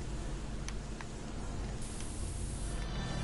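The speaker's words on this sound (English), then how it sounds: "You just spray yourself with the herbs?" A healing herb is sprayed on in Resident Evil Revelations 2, giving a steady, soft hiss that runs the whole moment with faint ticks on top and no talking.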